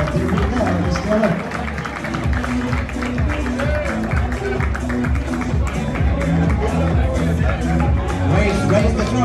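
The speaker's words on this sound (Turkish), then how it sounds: "Give them a hand, 50 teams." Audience at a 2022 Istanbul Open awards ceremony applauding 50 teams, dense continuous clapping and crowd noise mixed with cheering and background voices throughout.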